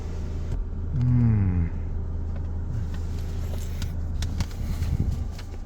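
A Ford Everest Titanium SUV accelerating, with a steady low engine rumble inside the cabin that swells briefly, then settles into a constant drone with a few faint clicks and knocks.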